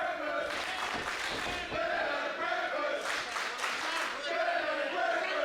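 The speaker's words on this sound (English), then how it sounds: "The crowd has come alive for Ben and Breakfast." A live wrestling crowd at a PCW Ignition show cheers and shouts loudly in sustained waves, swelling twice with overlapping yells and chants filling the arena.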